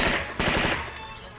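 A toy gun sound effect from an RC offroad car with suspension fires a rapid, loud burst of repeated shots close by, then trails off into a fading electronic tail.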